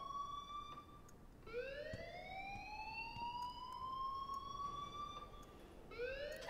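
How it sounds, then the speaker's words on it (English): In the video game Life is Strange, an alarm wails as a rising and falling siren-like tone that sweeps upward, repeats and restarts near the end. It sounds fairly distant and steady, with no talking. "please turn off that alarm"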